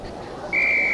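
A single high, steady whistle blast starts a Quidditch trial in the PS1 Harry Potter and the Sorcerer's Stone game, coming in halfway through and held clear over faint background game sound.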